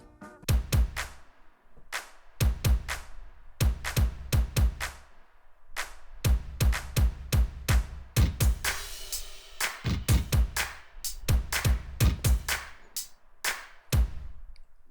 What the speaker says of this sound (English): In the next part I have these new drums that come in